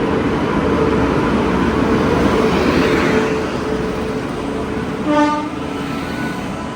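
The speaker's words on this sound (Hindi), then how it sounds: "सामने आ रही है मालवा एक्सप्रेस" The Malwa Express rumbles and clatters steadily as it approaches, then a single short, loud horn blast sounds near the end.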